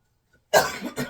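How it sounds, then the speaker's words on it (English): One abrupt, harsh cough bursts out after a brief silence, followed by a second, shorter cough. "Sorry, I got a cough."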